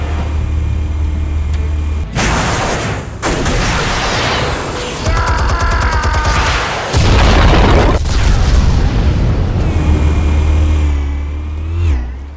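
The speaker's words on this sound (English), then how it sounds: "Explosives armed. Fire when ready." Explosives detonating in the Batman Telltale video game: loud booming blasts and bursts with rumbling low end over a steady game score, a heavy impact near the middle, no talk.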